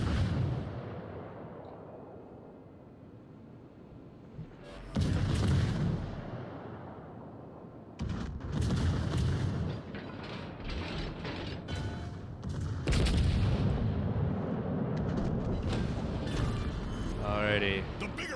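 Battleship gunfire in World of Warships, a heavy booming salvo with rumbling decay, then further loud bursts and mechanical creaks over a steady engine-like drone, with a voice talking at times.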